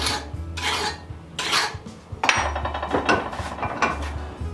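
A hand file rasps across steel in a workshop, with several long, scraping strokes separated by short pauses. Each pass is close and distinct, and no voice is heard.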